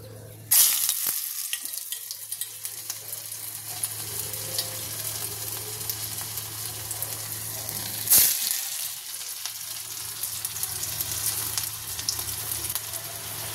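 Cabbage pakoras fry in oil over low heat with a steady close sizzle, broken by a couple of sharp bursts as pieces are dropped in or moved, no talking.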